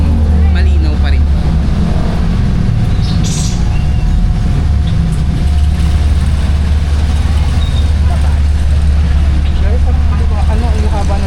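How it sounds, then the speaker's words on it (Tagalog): A jeepney engine drones loudly and continuously while riding, a heavy low rumble that fills the whole stretch with faint road noise; speech is hard to make out under it. "sobrang ingay ng makina ngayon"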